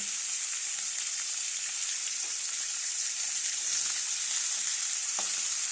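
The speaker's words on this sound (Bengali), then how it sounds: "মাছটা একটু কড়া করে ভেজে নেব লাল লাল করে" Fish frying crisp in a pan of oil, a steady close hiss and crackle with small pops scattered throughout and no voices.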